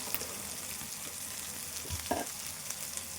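Onions fry in a pan while gongura chicken is cooked, a soft, fairly quiet sizzle that hisses steadily with a faint stir or two.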